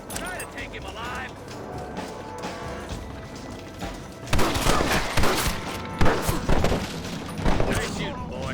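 Gunfire in the Western video game Red Dead Redemption: a quieter stretch of scattered shots and clatter, then a loud burst of rapid, overlapping gunshots with sharp cracks and crashes in several clusters.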